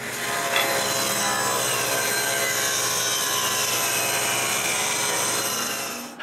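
Steady, continuous sawing through wood while cutting mortises, a loud rasping hiss that keeps up without pause for several seconds, no voices.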